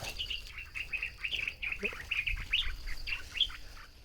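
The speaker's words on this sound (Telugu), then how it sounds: "పక్షులు" Birds chirp and tweet repeatedly in quick, high bursts against a quiet outdoor background, with no talking.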